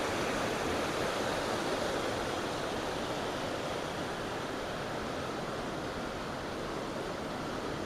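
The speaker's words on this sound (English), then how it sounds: "Nice waterfall down there too." A waterfall in a wooded ravine roars as a steady, dense wash of rushing water, loud and unbroken throughout, with no voices.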